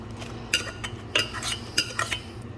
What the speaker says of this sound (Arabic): بعدين بنقلبهم كلهم سوا، الجزر والفليفلة والبصل والملح والفلفل وزيت الزيتون